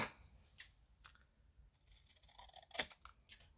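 Scissors snip paper for a bee-themed junk journal, a few quiet, sharp cuts spaced unevenly in a hushed room, close by and faint overall.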